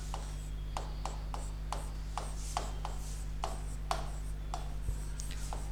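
Chalk or marker strokes on a classroom board, a steady series of short scratchy rubs with a regular rhythm over a constant low electrical hum.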